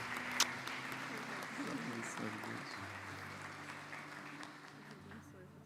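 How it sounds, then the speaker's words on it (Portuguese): A church congregation claps steadily, the applause spread and moderately distant, with voices talking over it. "Louve o Senhor com suas palmas"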